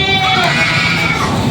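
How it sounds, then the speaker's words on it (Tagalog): Goats bleat in a busy livestock auction market, their cries mixed with crowd noise and people talking nearby, loud and continuous throughout. "binibilang yung mga kambing."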